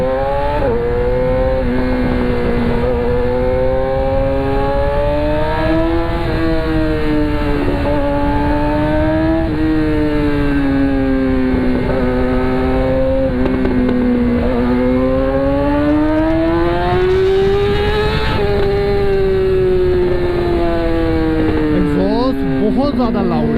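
A Yamaha R6 600cc sport motorcycle engine idling loudly, then revved in several rising and falling swells, with a sharper throttle blip near the end.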